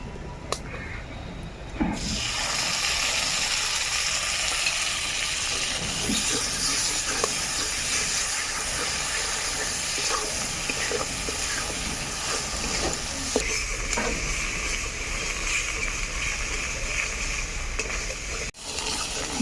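Ground spinach paste hitting hot spices in oil for palak paneer, a short pause then a loud, steady sizzle and hiss that continues with stirring scrapes throughout.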